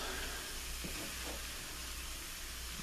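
Spinach dip mixture cooks in a pan over low heat, giving a steady, soft sizzle and hiss that runs evenly throughout, with a couple of faint stirring scrapes near the start.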